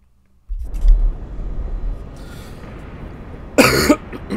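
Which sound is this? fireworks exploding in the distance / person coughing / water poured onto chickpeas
person coughing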